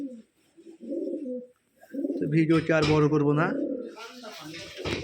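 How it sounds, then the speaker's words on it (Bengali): Pigeons coo at a flying-pigeon farm in Rajshahi, a soft repeated cooing close by, mixed with someone speaking over it through much of the stretch. "এগুলো সবগুলো উড়াবাজির কবুতর"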